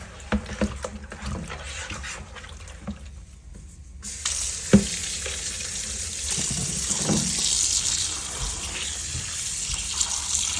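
Warm water from a kitchen tap rinsing a raw fish previously treated with apple cider vinegar, at first a softer trickle, then a loud steady gushing stream into the sink with handling noises, close by.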